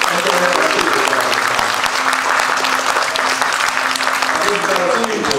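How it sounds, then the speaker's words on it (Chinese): A large crowd applauds at a temple ceremony, loud, dense, sustained clapping that fills the whole stretch, with a voice speaking over it through a sound system. "今天大家掌声给咱黄伟哲市长、副市长带来这个欢迎"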